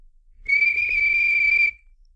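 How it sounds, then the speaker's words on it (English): A railway guard blows a single steady whistle blast, shrill and clear, lasting over a second, close and alone with no talk. "The guard waved his flag and blew his whistle."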